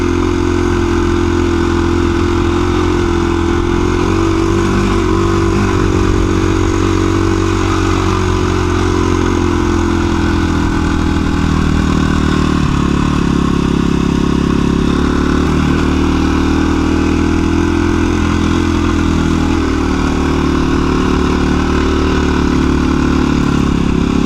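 A dual sport adventure motorcycle cruising along scenic trails, its engine a loud, continuous drone that holds steady with slight shifts in pitch throughout, with no voices.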